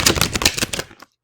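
A deck of playing cards is shuffled by hand in the traditional overhand style, giving a quick, close series of crisp papery slaps and rustles for about a second before falling silent.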